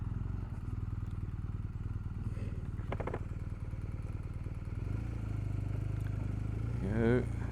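A 2019 BMW R1250R motorcycle chugs along at low speed through a U-turn with a steady, close engine rumble. Someone speaks over it, and there is a brief rise in engine note near the end.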